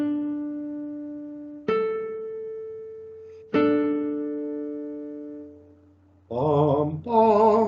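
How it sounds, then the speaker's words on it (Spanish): Two strings are plucked in turn to sound a musical fifth: three clear ringing notes, each fading slowly, then a voice hums the same interval twice. "Eso es una quinta."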